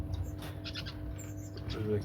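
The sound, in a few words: fawn cherry finches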